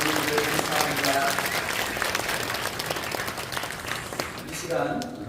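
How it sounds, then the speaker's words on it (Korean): Warm, steady applause from a congregation at a church thanksgiving service for a pastor's installation and an elder's retirement. It is a dense clapping wash that fades slightly toward the end, with some voices mixed in. "큰 박수로 감독님들 감사합니다."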